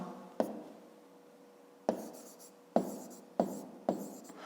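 A pen writes on paper at a desk during a fifth-grade maths exercise, with five distinct scratchy strokes at uneven intervals, each a short tap that trails off quietly, close up and with no talk.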